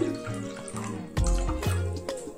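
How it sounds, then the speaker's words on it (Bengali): A cup of water is poured into a bowl while making borhani, a yogurt drink, with splashing and gurgling bursts and a heavier gush midway, close and clear. "এখানে আমি 1 কাপ পরিমাণ পানি নিয়ে নিলাম।"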